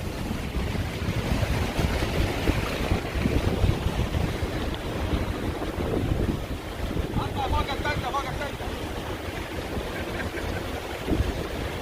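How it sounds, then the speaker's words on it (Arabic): Sea waves at the Jeddah Corniche beach on a day of very high water, a continuous wash of surf mixed with heavy wind buffeting the microphone, loud and steady throughout. "كمية الموية عالية جدا، والموج لا يزال شغال."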